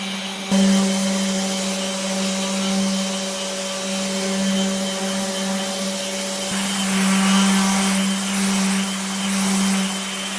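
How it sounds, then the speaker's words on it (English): A power sander works steadily on wooden crate slats, loud and close with a constant droning whine that swells slightly partway through, and no talking. "I'm sanding these now to get them ready for finish"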